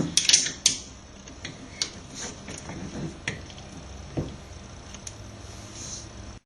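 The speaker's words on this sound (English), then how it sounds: "Try and turn the glare nut as far as possible," Brass gland nut being screwed down on an Emech Control F5 3-port steam water mixing valve, giving close creaks and ratcheting mechanical clicks in irregular bursts, with no voices.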